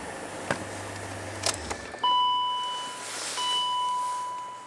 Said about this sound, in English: Key ignition lock, alright.